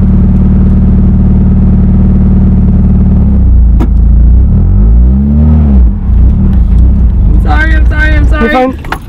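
Manual stick-shift car engine idling and rumbling steadily, then revving and labouring as the driver struggles with the clutch; someone talks over the engine throughout.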